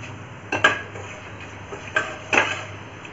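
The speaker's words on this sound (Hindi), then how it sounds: "मेथी दाने को हिलाते हुए हम राई डालेंगे" Fenugreek seeds, mustard seeds and fennel stirred in a pan for Marwari kadhi: a few sharp metallic scrapes and clinks of a spoon against the pan, spaced out over quiet sizzling.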